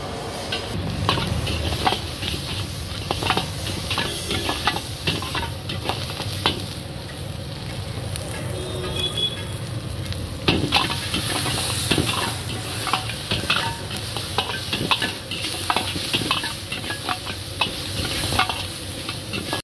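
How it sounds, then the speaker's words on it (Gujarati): Manchurian noodles are stir-fried at a street food stall, with a steady loud sizzle of frying and constant stirring and scraping in the pan, plus occasional clinks of metal utensils, and no voices. "જે નૂડલ્સ છે એ પણ એડ કરવામાં આવે છે"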